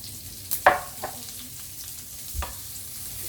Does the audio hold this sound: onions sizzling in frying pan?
yes